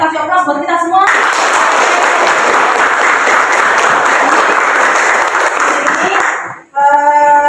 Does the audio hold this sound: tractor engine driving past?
no